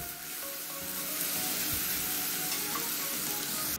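Ginger garlic paste with crushed green chillies hitting hot oil in a pan, giving a close, steady sizzle that holds evenly for a few seconds.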